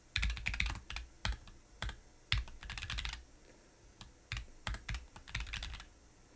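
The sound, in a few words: typing Python code on a computer keyboard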